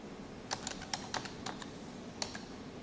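Fingers type a compile command on a computer keyboard, a quick run of crisp, close key clicks in short bursts with a brief pause before a final couple of taps.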